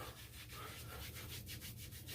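Wave grease being rubbed into hair by hand during wave preparation, a steady close scratchy rubbing with rhythmic strokes that quicken near the end, alone without talk.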